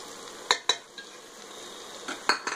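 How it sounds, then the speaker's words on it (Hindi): Yogurt and spices with dried fenugreek leaves being stirred and fried in a pan over medium flame, with a few sharp utensil scrapes and clinks over a faint steady sizzle. "फिर से हम इसे चलाएंगे और कुछ देर भूनेंगे"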